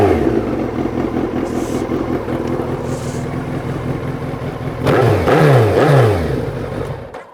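A Suzuki Hayabusa motorcycle engine idles with an uneven rumble, then revs sharply twice near the end, loud and close.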